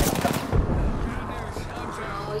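Enemy gunfire in Apex Legends, rapid close bursts of shots with a heavy thump near the start, loud and continuous, mixed with game sounds.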